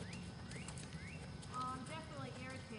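Horse hooves clip-clop in a steady four-beat walk, soft and fairly close, with birds chirping in the background.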